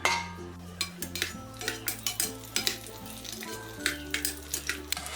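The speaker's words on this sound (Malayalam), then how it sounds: "കാഷ്നട്ട് ഇവിടെ റോസ്റ്റായി വരുമ്പോഴേക്ക് അതൊരു സൈഡിലേക്ക് ഒന്ന് ഒതുക്കി കൊടുത്ത ശേഷം ഈ എടുത്തു വെച്ചിരിക്കുന്ന കിസ്മിസ് ഇട്ട് ഫ്രൈ ചെയ്തെടുക്കാം" Cashew nuts and raisins frying in a pan for vermicelli payasam give a continuous close sizzle, broken by rhythmic scrapes and taps of a spoon stirring against the pan.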